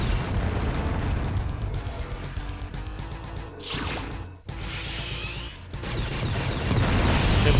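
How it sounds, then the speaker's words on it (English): Robot enemies fire weapons in a fast action video game, with dense booming blasts and mechanical clanks layered over a continuous loud roar, punctuated by whooshing bursts. "Some of these robots you don't want to be close when they fire at you."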